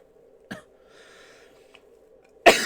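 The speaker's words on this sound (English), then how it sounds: "Gosh, I am coughing today." Quiet room with a low hum, one brief cough early on and a louder, harsh cough at the end.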